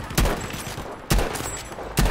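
Three loud, evenly spaced rifle shots from a Battlefield V match fire about one second apart, each a sharp heavy crack with a short tail over a faint game background.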